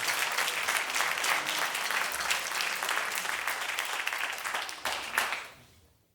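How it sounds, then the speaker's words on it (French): Concert audience applauding the flutist Lisanne at a community wind band jazz concert, sustained crowd clapping that holds steady and then fades out at the end. "vous pouvez l'applaudir aussi"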